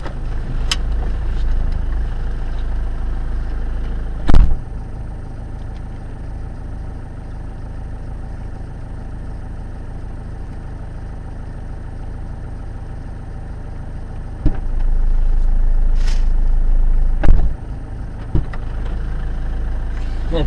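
Car engine droning steadily from inside the cabin while driving, a low continuous rumble with a couple of brief louder bumps and no talking.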